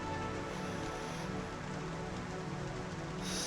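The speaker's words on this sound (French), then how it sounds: "il y a une pluie battante, comme dans Blade Runner" Heavy, steady rain pours down in the Blade Runner Enhanced Edition video game, a dense, continuous hiss of drops drumming on surfaces, close and unbroken with no voices.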